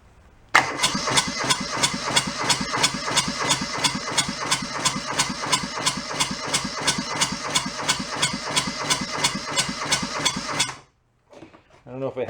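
A junked small diesel engine cranks and catches almost at once, then runs with a fast, steady chugging beat for about ten seconds before cutting out abruptly, loud and close, with brief noise after it stops.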